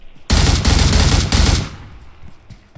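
Automatic gunfire in a shooter game, one loud close burst of rapid shots lasting over a second, then quickly fading out.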